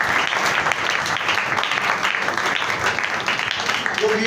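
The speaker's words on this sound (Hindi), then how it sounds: "इनके लिए तालियां बजाएं" An audience at a church prayer festival sermon claps steadily, with dense applause filling the hall throughout. No one speaks over it.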